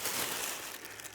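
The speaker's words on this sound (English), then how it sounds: "We have a plastic bag here which has just got all that foam stuff in." A plastic bag holding foam packing material is handled, giving a brief, soft crinkling and rustling up close.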